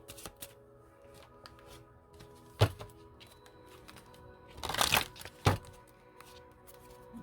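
Tarot cards being shuffled in a few short, crisp bursts, with quiet handling noises between them.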